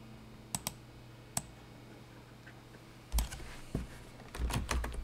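Scattered keystrokes on a computer keyboard while building a website, a few isolated clicks early on followed by a denser burst of taps near the end, faint and close with no talking.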